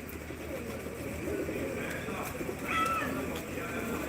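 Pigeons coo faintly across a large pigeon farm near Samrala, their soft murmuring blending into a steady background hiss with a brief louder call near the end.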